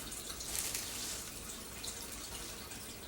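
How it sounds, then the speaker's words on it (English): Water drips and trickles from squeezed wet bedding for a worm compost bin, a faint, steady patter close by with no talk. "So you want to squeeze it and get most of the water out of it."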